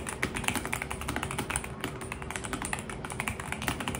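Dense, steady keystrokes on an EpoMaker Luma 84 mechanical keyboard with an aluminum case, a fast run of close, even taps with no pauses and no voices.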